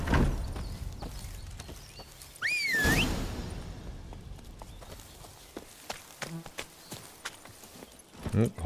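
Horse hooves clop in The Witcher 3, with an irregular run of close hoofbeats and sharp thuds, along with a brief swooping whistle-like effect and game sounds.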